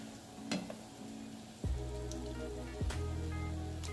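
Thawed frozen crawfish cooking in a pan over a medium-low flame, a soft continuous sizzle and crackle like light rain, with a couple of thuds and stirring scrapes partway through.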